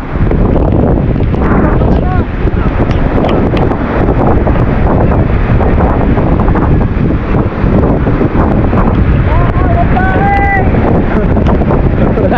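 Strong typhoon wind during Typhoon Carina roars and buffets a microphone continuously at high level, with a coastal setting, a voice briefly heard under the rush, and no letup across twelve seconds.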